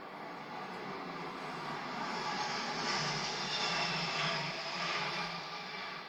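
A Voyager, a modified civilian Airbus A330-200 military transport, flies past overhead during a ceremonial flypast, a steady broad roar that swells slightly in the middle and then holds, with no talk.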